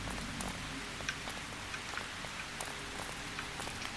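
Steady, moderately loud rain falls across a cemetery in the video game Calvino Noir, a dense continuous patter with scattered sharper drops on stone, no voices present.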